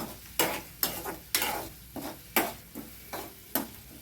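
Egg masala gravy base frying in oil, stirred in a regular rhythm, with about seven sharp spatula scrapes against the pan over a low sizzle, close up and without speech.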